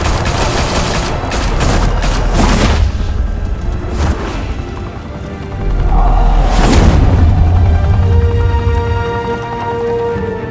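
Gunfire in a shootout from the Batman Telltale game, with loud bursts of rapid shots and heavy booming blasts close by, several sharp volleys standing out over a rumbling, dense battle din.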